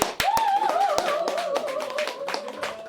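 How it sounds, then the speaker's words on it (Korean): Audience clapping after a restrained Korean sanjo dance performance. Sharp hand claps ring out loud and close over a sustained singing or instrumental tone throughout. "박수로."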